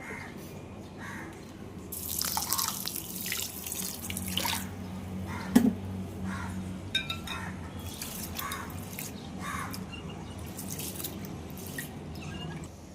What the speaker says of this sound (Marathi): तो पहिले आपण स्वच्छ धुवून घेऊया इथे